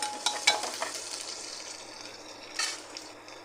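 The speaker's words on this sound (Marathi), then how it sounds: "मसाला पण छान तळायचा" Grated ginger and garlic frying in a pan for methi pulao: a quiet crackling sizzle with a few soft ticks and stirring scrapes near the start, easing into a low steady hiss.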